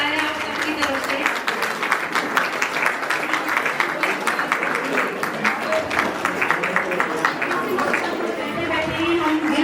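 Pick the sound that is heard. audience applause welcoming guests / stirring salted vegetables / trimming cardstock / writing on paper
audience applause welcoming guests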